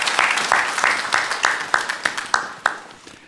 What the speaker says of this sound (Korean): 우리 영광의 박수를 우리 하나님께